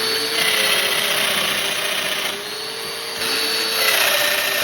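A domino joiner cuts mortises in scrap wood, a steady high motorized whine with a brief dip partway through before the cut resumes, close and loud with no talking.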